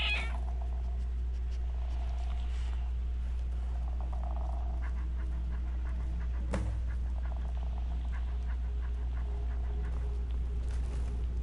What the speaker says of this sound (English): that's my kitten.